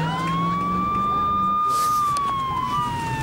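A police car siren wails at a hidden-camera prank in Louisiana, a loud steady tone that sweeps gently up and down over continuous background noise for about three seconds.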